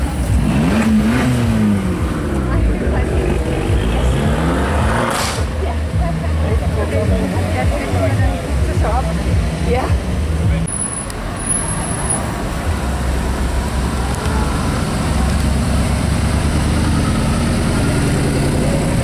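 An Aston Martin Vanquish S engine rumbles nearby amid roadway traffic noise in Juan-les-Pins, with steady engine drone and a few passing vehicle sounds throughout.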